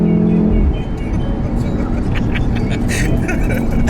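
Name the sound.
Volkswagen Golf R car driving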